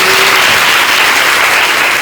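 An audience claps steadily at a spiritual talk, a dense, loud and even wash of applause with no voices over it.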